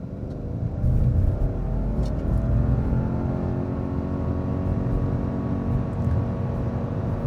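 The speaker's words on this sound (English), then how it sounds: "We're just going to let the revs build up." 2026 Subaru Outback Touring XT turbo engine building revs and pulling hard from a standstill, a sustained rising roar heard from inside the cabin, loud and continuous with wind and road rumble beneath it.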